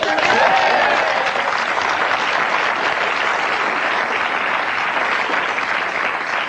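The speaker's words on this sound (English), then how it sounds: "Give Frank a round of applause." Steady applause from a live television studio audience, dense clapping that holds at a fairly loud level throughout, with no voices standing out.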